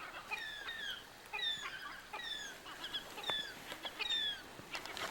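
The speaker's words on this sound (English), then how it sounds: "the glaucous gulls are chattering above, keeping an eye on me" Glaucous gulls call overhead off the coast of Greenland, a run of repeated squealing cries at moderate distance, heard alone without talk.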